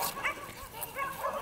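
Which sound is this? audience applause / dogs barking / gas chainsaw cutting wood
dogs barking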